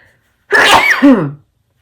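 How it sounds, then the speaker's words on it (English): A single loud sneeze bursts out after a short silence, a sharp explosive onset trailing into a falling voiced tail, then quiet. "I'm gonna sneeze again."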